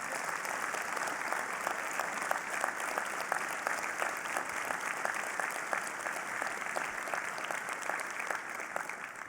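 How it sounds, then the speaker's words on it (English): Steady, sustained audience applause for two laureates at the 2024 Borlaug Dialogue, a dense, even patter of many hands in a large hall continuing without a break. "Please stand up and let's give them a round of applause."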